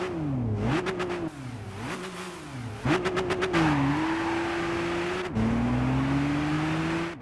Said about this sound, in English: Most cars sound muffled and distorted,